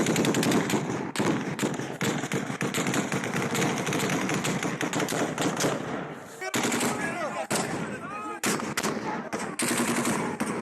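Sustained gunfire at a vote counting centre in North Waziristan, Pakistan: loud, dense automatic bursts rattle almost continuously, broken by a few short pauses before the firing resumes.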